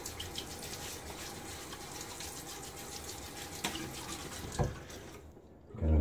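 Tap water runs steadily into a sink while water is splashed onto a face in a pre-shave wetting, with a sharper splash near the end and the flow cutting off abruptly.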